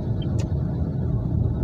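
A truck drives fast along a road in Semarang, a heavy, continuous low engine rumble close by, with a brief higher squeak partway through.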